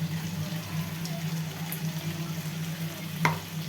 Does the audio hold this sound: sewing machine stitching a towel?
no